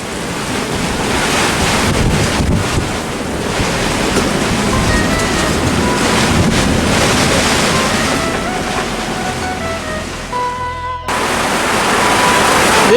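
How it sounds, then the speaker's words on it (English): Strong 24-knot wind and surf batter a sailboat anchored in Woburn Bay, Grenada, a loud continuous roar of gusts and crashing water with heavy wind buffeting on the microphone, easing briefly near the end. "We're getting hit by another one. Winds are only 24 knots, so it's not that bad at the moment."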